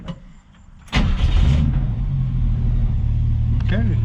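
A 1965 Ford Mustang restomod cranks and catches with a sudden loud roar, then holds a deep, steady rumbling idle close by, with a few quieter mechanical clicks near the end.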